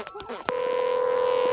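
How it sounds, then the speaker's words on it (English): A trubbly phone from the children's show In the Night Garden starts up after a short burst of sound, holding a loud, steady electronic two-tone ring with a faint voice just before it. "The trubbly phone is ringing."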